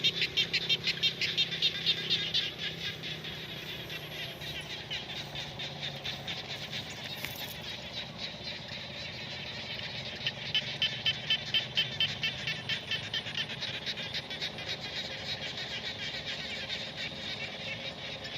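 Frogs call in the rainy-season countryside of Kompong Thom province, Cambodia, near a water pump, with fast, pulsing trills repeating in bursts over steady background noise.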